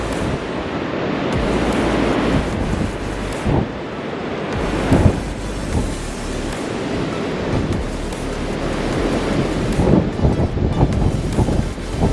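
Strong wind buffets the microphone on an exposed west coast above Hokianga Harbour by the Tasman Sea, a constant loud roaring rush with gusty swells and surf mixed beneath, no voices.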